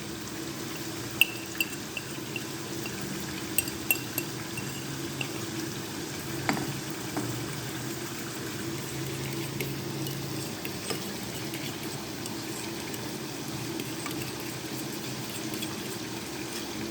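Chicken frying with garlic ginger paste in a karahi, giving a steady close sizzle with occasional small pops and crackles throughout; no talk.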